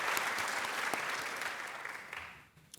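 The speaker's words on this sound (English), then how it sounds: "One more round of applause for all of the 10-year award honorees." An audience at a staff service and excellence awards ceremony applauds steadily for honorees, then the clapping fades out over a few seconds.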